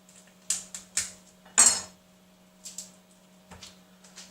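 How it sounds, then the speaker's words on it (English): Metal clattering and clanking as a pan is taken out of an oven and a shelf moved to the bottom, several sharp knocks spread across a few seconds over a low steady hum of the grill on high. "I'm taking the pan out and putting the shelf in the bottom"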